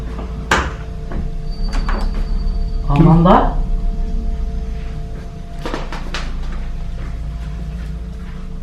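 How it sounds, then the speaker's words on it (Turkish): A single sharp knock of a door shutting early on, followed by quiet indoor sounds with a few clicks and a brief voice exclaiming. "bir kapı kapanma sesi geldi"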